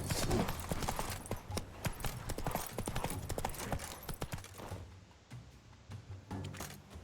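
Horse hooves clip-clop at a steady gallop in a video game, a close, rhythmic drumming that carries on for several seconds before easing off toward the end.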